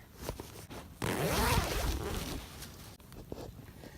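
A zipper on a bivvy shelter is pulled open close by in one long rasping stretch, preceded and followed by soft fabric rustling.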